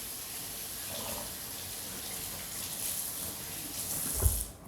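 Tap water runs steadily into a kitchen sink while large carrots are rinsed under it, a continuous close hiss of flowing water with a brief splash or clunk near the end before it stops.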